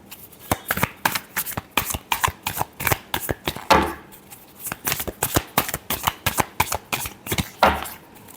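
Tarot cards being shuffled in a rapid run of crisp riffling and slapping bursts, close and clear with no talk over them.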